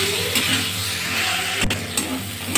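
A soybean and elephant foot yam curry being stirred and fried in a pan, a steady low sizzle with scraping stirring strokes and a few sharp clinks of the spoon against the pan.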